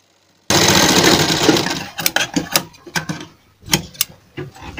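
Sewing machine stitching a buckram strip for a cotton kurti neckline, a loud continuous run followed by short bursts of stitching with pauses, close up and without talk.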